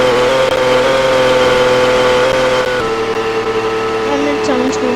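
A steady, loud race-tuned SF90 engine drone in the video game My Driving Empire, with strong harmonic whine, holding pitch and then dipping slightly, close up and continuous.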